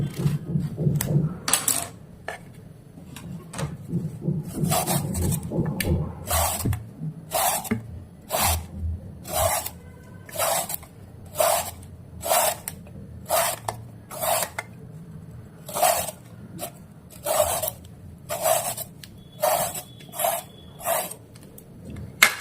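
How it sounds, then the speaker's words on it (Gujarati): A peeler strips the skin from a bottle gourd in about twenty crisp rasping strokes, each a short scrape repeated at a steady pace of roughly one a second, close and clear with a faint background hum. "પહેલાં આપણે દૂધીની છાલ ઉતારી લઈશું"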